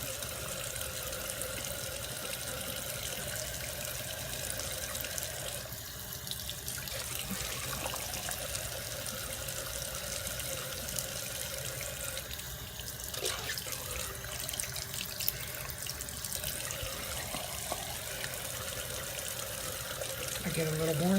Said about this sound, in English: So I will rinse that off